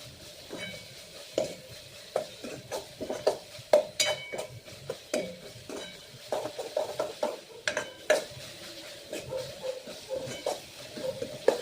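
Coriander-cumin powder being stirred into oil in a cooking pan, with repeated scraping strokes of a utensil against the metal in an irregular rhythm, close and fairly clear, no talking.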